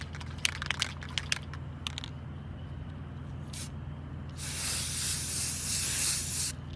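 A Krylon or Rust-Oleum spray paint can lays down a coat in a steady hiss lasting a couple of seconds, preceded by a few faint rattles and clicks, all close and with no voices.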